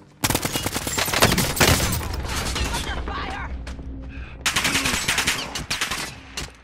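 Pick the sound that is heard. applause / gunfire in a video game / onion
gunfire in a video game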